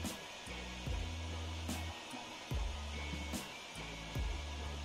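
An impact wrench works the nozzle nut of a Yanmar diesel fuel injector in rapid repeated bursts, each a low buzzing hammer lasting about a second, close and fairly quiet, with no voices.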